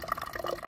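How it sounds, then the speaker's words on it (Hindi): Water pours from a small camper water cooler at a roadside stop during a bicycle climb to Mount Abu: a brief, faint, close splashing trickle that cuts off abruptly. "छोटे से कैंपर से पानी लेते हैं भाई।"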